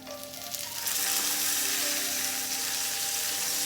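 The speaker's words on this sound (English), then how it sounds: "we're getting a really nice char on the eggplant" Eggplant pieces frying flat side down in a hot pan, a loud, close sizzle that swells within the first second and then holds as a steady, even crackle with no voice.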